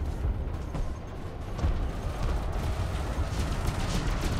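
Cannon fire rumbles on in a combat video game as a dense, steady wall of booming blasts and battle noise, with no pauses and no talking.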